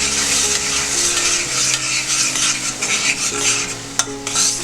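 Ginger, garlic, green chili paste and tomato paste sautéing in a pan for a prawn curry, a loud continuous sizzle under repeated close spatula scrapes and a sharp clink near the end.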